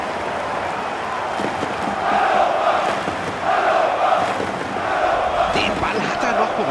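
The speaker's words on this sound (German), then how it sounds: "Sie liegen vorne und schauen Sie sich diesen Jubel an." Football fans cheer after a goal in a Bundesliga match against VfL Wolfsburg, a dense, steady crowd roar filling the stadium with rising swells of shouting and no clear pauses.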